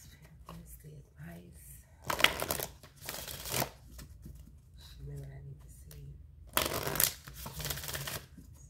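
Tarot cards being shuffled in two bursts of crisp riffling, close and fairly loud, with quieter handling sounds and soft background noise between them.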